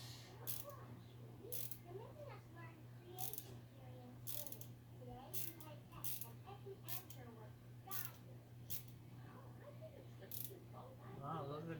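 Screws are snugged down on a 1:10 scale RC truck rear bumper mount, with faint intermittent clicks and scraping of a driver, quiet and close, while a person talks over it.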